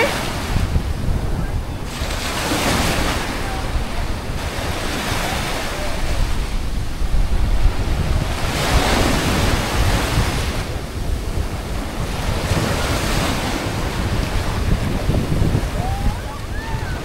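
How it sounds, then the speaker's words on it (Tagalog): Sea waves rolling in at Dibut Beach in Aurora, loud surging washes that swell and recede every few seconds, mixed with heavy wind buffeting the microphone. "Ang alon ng dagat."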